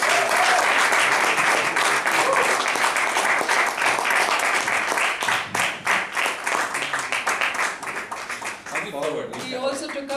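A meeting audience gives sustained, dense applause for an award winner, the clapping loud and close throughout before thinning toward the end.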